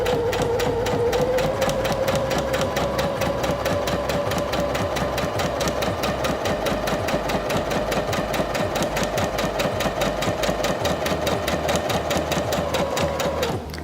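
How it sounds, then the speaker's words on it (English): Singer Featherweight C240 sewing machine stitching forward, a loud, close, continuous rapid needle rattle with a steady motor whine that holds evenly for the whole run, cutting off sharply at the end. "Now we're going to sew forward again."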